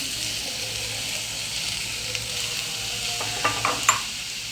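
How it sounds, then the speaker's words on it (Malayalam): Papaya frying and being stirred in a hot Indian-style wok for Kerala papaya thoran, giving a steady bright sizzle with a few clinks of a spoon near the end. "അതിലേക്ക് നമുക്ക് ഈ പപ്പായ ചേർത്ത് കൊടുക്കാം."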